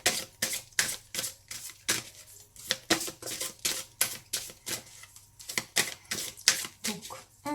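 Tarot cards are shuffled in a quick, regular rhythm of about twenty crisp slapping bursts, close and fairly loud, with no talking over them.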